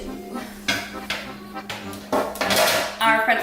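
Metal baking sheets of golden pretzels clank and scrape as they come out of the oven, several sharp knocks and rattles in irregular succession, close by, with some speech.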